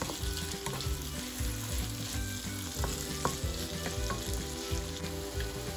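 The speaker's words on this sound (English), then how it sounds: "definitely be sauteing this for at least 5 minutes." Food sautéing in a pot for ackee and saltfish gives a continuous close crackling sizzle with repeated spoon stirs and light clinks, and a low steady hum runs underneath; nobody speaks.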